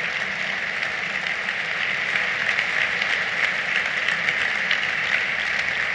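An audience at a talk claps steadily for several seconds, a dense, even wash of applause with no voices standing out.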